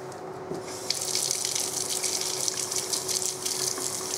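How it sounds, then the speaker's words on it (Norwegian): Tap water runs steadily into a sink while a shaving brush is wetted for lather, a continuous close splashing stream with no voices. "Så dynker du vann på."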